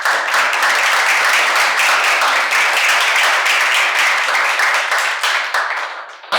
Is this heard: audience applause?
yes